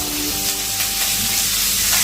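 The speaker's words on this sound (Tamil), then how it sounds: "வெங்காயம் இந்த தாளிப்பு எல்லாமே கோல்டன் கலரில் வர வரைக்கும் கொஞ்சம் நல்லா வதக்கி எடுத்துக்கலாம்" Onions sizzle and crackle steadily in a hot pan, with occasional stirring scrapes, close and loud, no voices.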